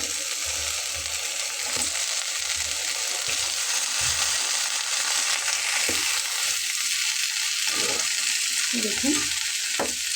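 Eggplant slices for begun bhaja fry in hot oil in a pan, a constant bright sizzle with occasional stirring scrapes and clinks, while someone speaks briefly over it.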